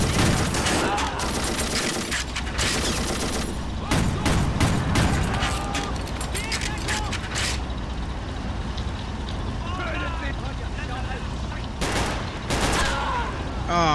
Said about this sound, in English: sounds like a tank is firing at this guy.